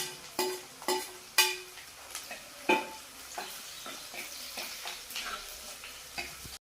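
Green chillies frying in a pan for Kottayam-style fish curry, a soft continuous sizzle punctuated by sharp spatula scrapes and taps at irregular intervals, close and fairly quiet.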